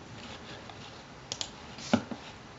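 A few light, close keyboard clicks from typing a short number into a computer field, scattered sparsely over quiet room tone.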